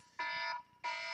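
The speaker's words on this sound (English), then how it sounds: "My own alarm actually scared me." An alarm blares in two loud sustained electronic bursts with a short gap between them, heard alone without any voices.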